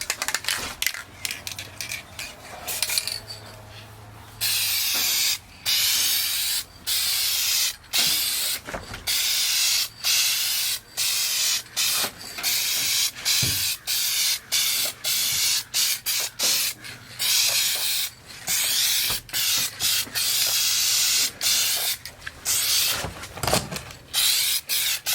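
Adhesion promoter sprayed from an aerosol can onto the lower lip valence of a car, heard as repeated loud hissing bursts, each a second or two long, separated by short pauses, with no talking.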